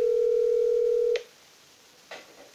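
A loud steady telephone tone sounds while calling back, then cuts off abruptly, leaving quiet line hiss and a couple of faint clicks.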